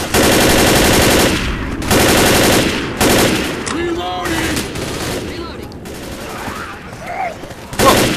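Rapid automatic gunfire from survivors in the Left 4 Dead zombie shooter, loud sustained bursts broken by short pauses, with scattered shots, a reload and game effects between them.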